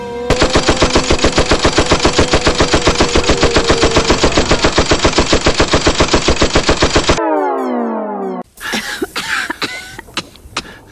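Rapid machine-gun fire in a Brawl Stars animation, a loud close stream of evenly spaced shots lasting about seven seconds, then a falling whine and scattered clattering impacts.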